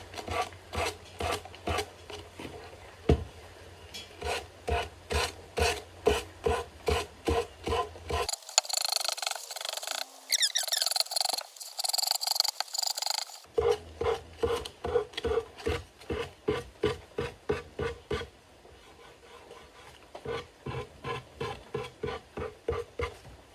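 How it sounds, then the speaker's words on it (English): A small sander with 120-grit paper works furniture edges in steady, repeated downward strokes. The rhythmic rasping is close and clear, with a brief smoother stretch in the middle. "So, we're going to sand these edges off. And I've just got a little sander with some 120 on it."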